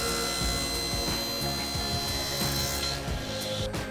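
A power saw with a sharp blade cuts through a laminated MDF work surface, giving a loud, steady, close grinding buzz with rough rasping pulses, alone throughout.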